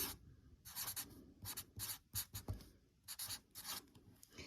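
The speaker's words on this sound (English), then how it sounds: "we're gonna sign our name at the bottom" A pen signs a name and then underlines it along the bottom of a Picasso-style flower painting, giving a run of short, close scratchy strokes in bursts with brief pauses, quiet and alone.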